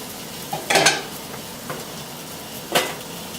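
A burger sizzles in a pan beside cooking navy beans, with a couple of sharp bursts of hissing and scraping as the pan is worked, separated by quieter stretches.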